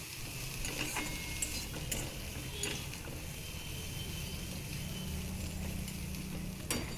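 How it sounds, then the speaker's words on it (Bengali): Vegetable stalks stir-fried with turmeric, salt and Kashmiri chilli powder in a pan, giving a quiet steady sizzle with occasional scraping and clinking of a spoon against the pan. "এই মশলাগুলো দিয়ে আমি ভালোভাবে এই ডাঁটাগুলোকে কষিয়ে নিচ্ছি।"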